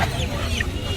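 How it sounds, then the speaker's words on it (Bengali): Two hens and a rooster cluck softly up close in a brief burst at a duck and chicken market, with a low background hum. "দুইটা মুরগি একটা মোরগ"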